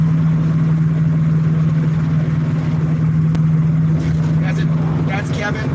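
A 1969 Dodge Dart GTS, Mexican spec with a 270-horsepower 318 V8 and a 4-speed, drives along with a steady, droning engine hum throughout, close and fairly loud inside the car, while people talk over it.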